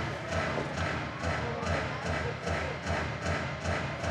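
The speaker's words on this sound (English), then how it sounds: "A few fans in the balcony area clapping and stomping" A few fans in an arena balcony clap and stomp in a steady repeating rhythm during a game, the pulses moderately loud and even, with a commentator talking over them.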